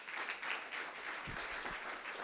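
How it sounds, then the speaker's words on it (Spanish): Soft applause from a church congregation offering palms to the Lord after a sermon, steady distant clapping throughout with a few lower thumps near the end. "Den una ofrenda de palmas al Señor"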